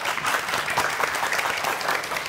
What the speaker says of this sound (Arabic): تصفيقة كبيرة كبيرة كبيرة